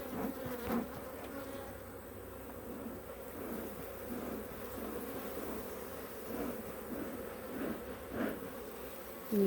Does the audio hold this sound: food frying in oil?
no